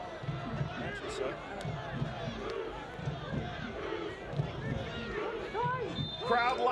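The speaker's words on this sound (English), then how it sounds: "Crowd loud here, trying to give Oakland a little boost here on the set piece." Stadium crowd at an Oakland Roots versus Colorado Springs Switchbacks soccer match, loud sustained cheering and shouting building ahead of a set piece, with whistles and voices mixed into the roar and a commentator talking over it.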